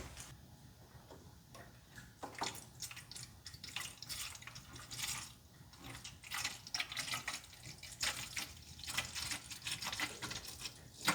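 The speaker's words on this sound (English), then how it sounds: "I'm gonna fill this thing back up, and then we'll just test it out, make sure my washer fluid is working" Washer fluid poured into the reservoir of a third-generation Toyota 4Runner, a steady trickling and splashing with faint ticking drips, close by, without talk.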